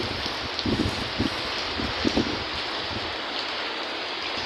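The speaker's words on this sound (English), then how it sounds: "It's raining really bad today." Steady rain hisses outdoors during a storm with gusty wind buffeting the microphone, broken by a few sharp knocks and splashes nearby.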